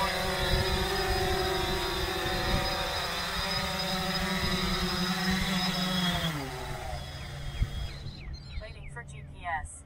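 Whining multi-rotor buzz of a UAS drone held in a hover, its tones steady, then dropping in pitch as it descends, ending in softer rotor noise near the ground; a voice talks over it.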